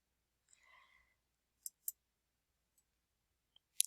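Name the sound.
computer mouse click on the Finish button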